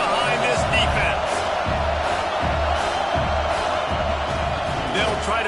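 Stadium crowd noise in the video game College Football 2K26, a steady roar swelling on a big third down, with rhythmic thumps and a commentator talking over it.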